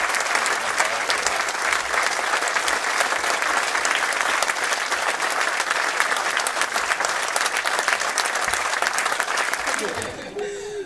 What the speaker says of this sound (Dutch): Dat verdient een dik applaus.